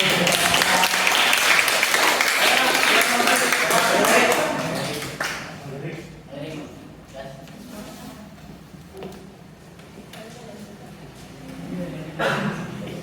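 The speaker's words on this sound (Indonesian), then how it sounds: "Tepuk tangan buat kelompok 1." A classroom of students claps for the first group about to present, a dense burst of applause lasting around four seconds before thinning into scattered taps, knocks and background murmur.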